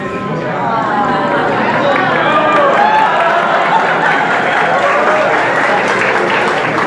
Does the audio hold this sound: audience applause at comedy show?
yes